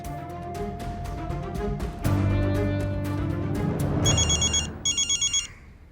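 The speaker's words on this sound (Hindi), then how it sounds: "तुम फोन लगाओ देव के बाबा को" An outgoing phone call rings back in a drama scene: a few short electronic tones, then a rising mix of music and ambience, ending in bright repeated ring bursts, moderately loud with no talk.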